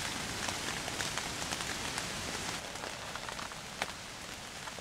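Steady rain falling on a surface, a dense continuous patter with occasional louder drops, no voices.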